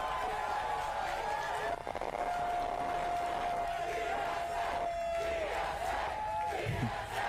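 A rally crowd roars, whoops and cheers continuously, loud and dense, with individual shouts rising above it.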